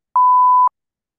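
A single clean electronic beep, a steady mid-pitched tone lasting about half a second, loud and isolated in silence.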